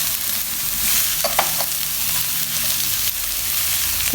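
Crushed cumin, coriander, red chilli and turmeric are stirred into a mooli paratha filling, with a steady broadband sizzle-like hiss and a few brief spoon scrapes in the middle, close and fairly loud.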